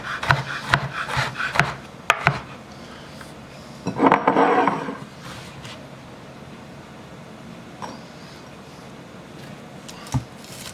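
A knife rough-cuts onions into big pieces on a wooden board, with several sharp chopping knocks early, a louder scraping rustle in the middle, then a few scattered cuts.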